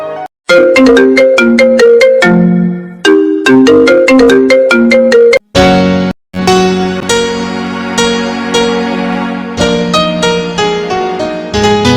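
A loud, bright melodic phone ringtone plays alone and close, its repeating tune broken by a couple of brief pauses before it continues steadily.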